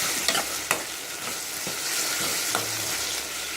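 Grated coconut sautés in a hot pan for a Madurai mutton kola urundai kulambu, giving a continuous close sizzle with occasional scrapes and taps of a spoon as it is stirred.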